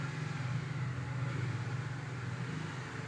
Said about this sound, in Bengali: বাবা কি গাড়ি ঘোড়ার আওয়াজ!